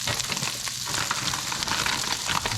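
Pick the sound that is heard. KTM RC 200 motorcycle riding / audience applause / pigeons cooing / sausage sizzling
sausage sizzling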